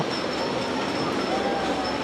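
Roller coaster trains rumble steadily along their track at an amusement park, a continuous loud mechanical roar with a faint high squeal running through it.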